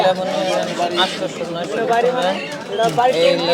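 Pigeons coo among other birds at a busy bird and pigeon market in Joydebpur, with people talking over the cooing throughout.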